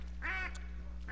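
In a hunting video game, a duck gives two quick nasal quacks, loud and close, over a low steady background hum.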